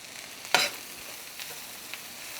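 Garlic dropped into a hot pan with softened peppers and corn gives one sharp sizzling burst, then a faint steady fry with a couple of light stirring scrapes.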